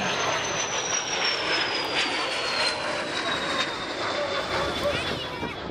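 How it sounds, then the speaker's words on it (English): An Embraer Phenom business jet flies past at the 2014 Camarillo Air Show, with a steady, fairly loud turbine roar and a high whine that slowly falls in pitch as it passes. Faint voices are heard underneath. "here's your phenom coming on by"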